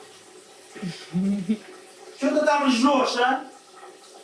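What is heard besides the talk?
water spraying from a bidet hose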